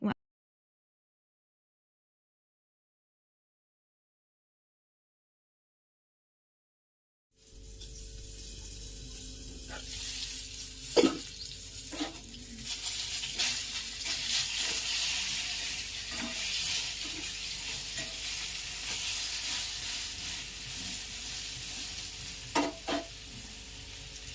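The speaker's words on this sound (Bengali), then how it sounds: "দিয়ে তারপরে হচ্ছে বেগুন ভাজাটা" Eggplant slices frying in oil in a home kitchen pan, a steady loud sizzle with occasional clinks and turns after a silent opening, with no talk.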